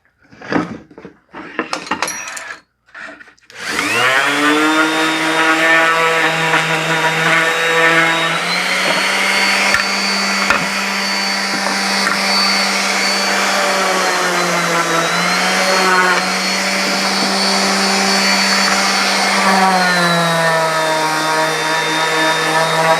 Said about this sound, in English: just go ahead and sand it and get those marks off of there